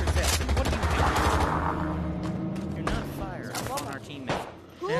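Gunfire in the virtual reality shooter Pavlov, an opening burst of rapid automatic shots then scattered single cracks and a later loud report, with players talking over the shooting.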